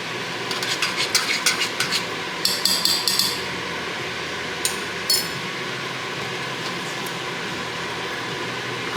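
Black bean bisque stirred in a pot, a spoon scraping and clinking against the pot in quick bursts, loud and close, then settling into steady background.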